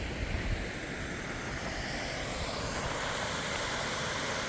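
A waterfall on the Hornbecks Trail gives a steady, broad rushing roar of falling water, continuous and fairly close with no pauses.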